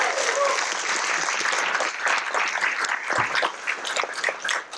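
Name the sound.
audience applause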